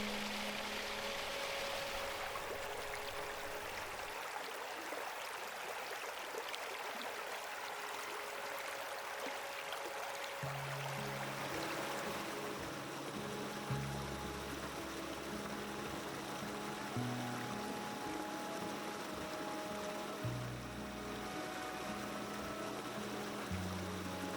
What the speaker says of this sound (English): The brook edged with ice, icicles forming on rocks and branches.